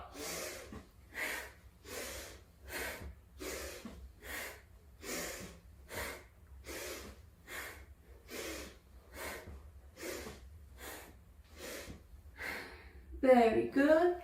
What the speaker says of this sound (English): So we're going to exhale here, inhale on the way, and exhale here. Inhale and exhale.